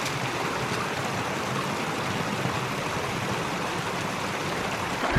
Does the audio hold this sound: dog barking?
no